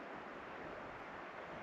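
Water from a mountain spring along the Pacific Crest Trail in California runs into bottles at about half a liter a minute, a steady close-up wash of trickling and splashing with no voices.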